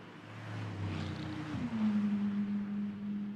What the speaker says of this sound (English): The cars sounding so different when their engines are dialed back off their full racing pace